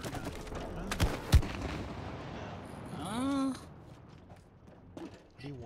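A goop gun fires in It Takes Two, giving two sharp shots close together early on, followed by softer splatter and game effects, with a person talking in the clip.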